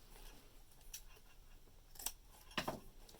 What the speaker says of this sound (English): I'm going to trim my little plaid